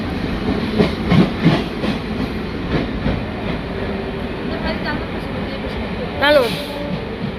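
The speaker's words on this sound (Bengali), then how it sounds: "আমরা বসে বসে ট্রেনে, পুরো ফাঁকা একদম।" A nearly empty passenger train runs along the track, heard from inside the carriage near dawn: a continuous rumble with rhythmic clattering wheel beats and a brief high whine near the end.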